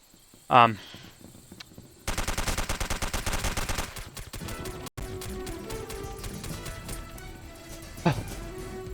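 Gunfire in the video game SOCOM US Navy Seals II, with a loud single shot and then a sustained rapid automatic burst lasting about two seconds, followed by combat ambience and a later sharp report.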